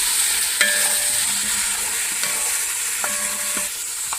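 Onion, bell pepper and tomato fry in a pan for Uzbek qovurma shurva, giving a steady, close hiss of sizzling with a few sharp clinks of stirring.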